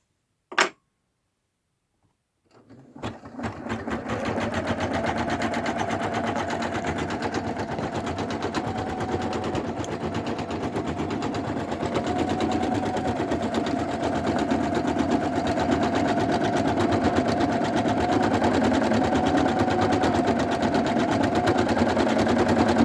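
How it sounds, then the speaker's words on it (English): An embroidery machine stitches an in-the-hoop zipper bag pattern, starting after a brief click and near-silence, then running loud and steady with a rapid, continuous needle chatter and motor whine throughout. "now I'm going to run this pattern"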